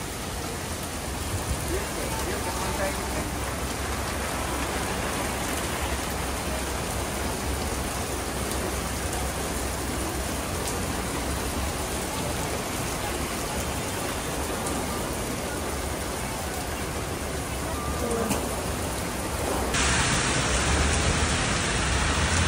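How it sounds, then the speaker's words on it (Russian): Steady, dense rain falls on a street in Tokyo, a continuous broadband hiss with pattering drops that lasts throughout and grows slightly louder near the end. "Дождь приехали, в дождь уезжаем."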